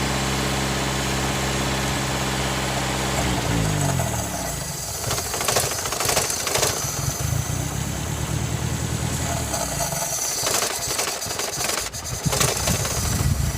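A Toyota AE86 engine idles steadily up close, then runs rough and uneven with bursts of knocking and sputtering as Seafoam is poured into it.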